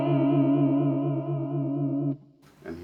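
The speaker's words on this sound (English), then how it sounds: "So here's the difference, sine wave." Sustained guitar chord through a Walrus Audio Julia analog bucket-brigade chorus pedal on the sine wave setting with raised lag and depth, smooth swirling modulation for about two seconds, then cut off and followed by a brief noisy attack.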